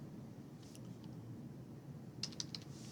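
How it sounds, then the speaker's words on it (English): A few faint, quick keyboard clicks, with a short burst of keystrokes near the end over a quiet room hum. "Just by quickly typing"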